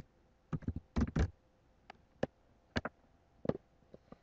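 Computer keyboard keys tapped in short, irregular clusters of sharp clicks, close and fairly clear against a quiet room with no talking.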